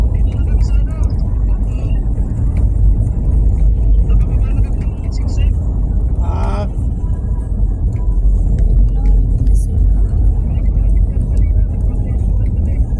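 Heavy road traffic in the Bicol region rumbles steadily with a constant low engine drone of vehicles idling and creeping along, heard from inside a vehicle, with a brief voice.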